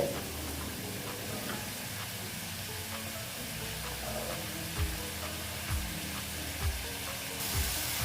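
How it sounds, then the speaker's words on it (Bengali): Raw jackfruit curry sautés in a pan, giving a steady close sizzle with a few soft stirring knocks toward the end and no talk. "এবার আমি এটাকে এখানে দিয়ে দিলাম আর ভালো মতন এবার কষিয়ে নেব"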